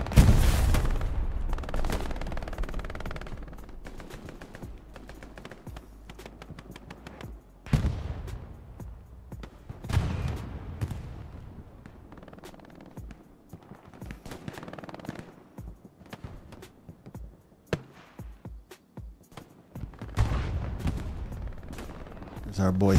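Anti-tank guns and artillery firing in Hell Let Loose, a World War II shooter match, with repeated heavy booms and bursts of gunfire spread across the scene, some near and loud, others more distant, under occasional voices.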